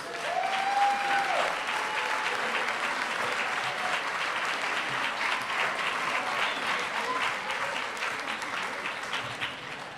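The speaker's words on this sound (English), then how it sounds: "let's give all of our graduates a round of applause" A large audience applauds graduates at a Donning of the Kente ceremony, sustained and evenly spread clapping heard from a moderate distance, with a faint whistle near the start.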